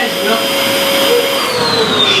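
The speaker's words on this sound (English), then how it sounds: "I don't know how a vacuum cleaner works, but I know it's a vacuum. I know I plug it in and it makes noise." A household vacuum cleaner runs steadily and loudly close by, its broadband roar holding a high whine tone throughout with no pauses.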